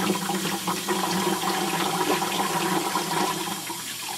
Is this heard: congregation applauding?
no